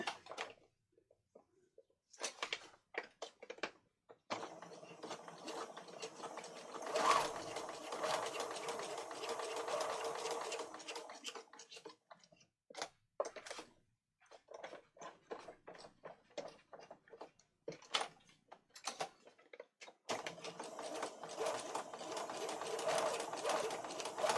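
Sewing machine stitching around an altered paper file folder in bursts of rapid mechanical whirring, some long and some short, separated by brief pauses, close and clear with no talk.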